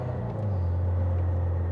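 A car engine revving nearby, a loud low rumble with a steady droning tone rising slightly and holding through the short moment.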